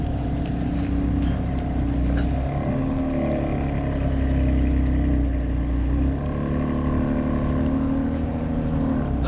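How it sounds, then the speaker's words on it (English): A modified car exhaust rumbles loudly and steadily, a deep continuous drone with engine harmonics passing nearby, heard from a bike ride through Marina del Rey and Venice Beach streets. "Why would you fix your car up so it sounds like a butt?"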